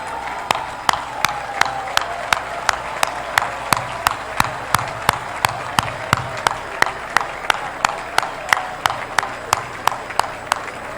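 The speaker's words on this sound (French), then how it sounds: "je vais vous prier une fois de plus de vous lever et d'applaudir" Rhythmic, evenly spaced clapping at an official opening ceremony for the Cameroonian football federation's offices, one sharp beat roughly every third of a second, steady and moderately loud over a background murmur, like an audience clapping in unison.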